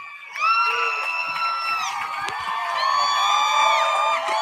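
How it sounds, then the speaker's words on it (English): A stadium crowd at an LSU football event cheers and whoops loudly with high, sustained shouts rising and falling, with some clapping mixed in. "Big round of applause for Jaden Daniels."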